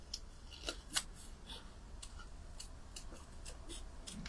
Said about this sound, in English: Don't try and just move the scissors.